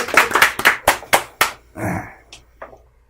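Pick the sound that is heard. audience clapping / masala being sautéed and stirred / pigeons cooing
audience clapping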